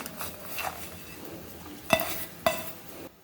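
Flour, chopped coriander and jaggery being mixed into bhindi fry in a pan, low sizzling under soft stirring with two sharp spoon knocks against the pan near the end.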